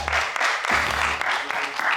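A crowd at a live show claps and cheers steadily for the first of two routines, a dense, loud wash of applause throughout.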